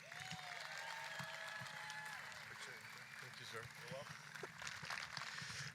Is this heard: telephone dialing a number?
no